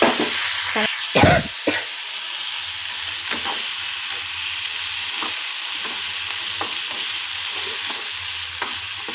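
Cooked lentils are tipped into a sizzling vegetable curry in a pan, with a few thuds as they drop in, then steady stirring over a constant hiss of frying.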